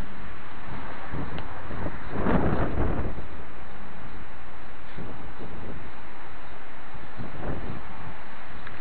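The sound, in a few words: second gust of storm wind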